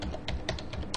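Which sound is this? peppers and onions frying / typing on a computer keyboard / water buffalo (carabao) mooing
typing on a computer keyboard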